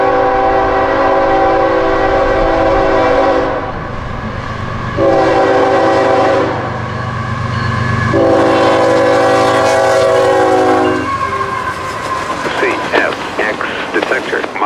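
Freight train rolling past a trackside spot near Owensboro, its horn sounding in three long, loud blasts over the steady rumble and clatter of the passing cars.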